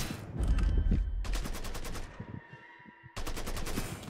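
Gunfire in the video game Mafia 3: Definitive Edition, with loud, rapid automatic bursts of shots in quick succession and a short lull before another sharp volley.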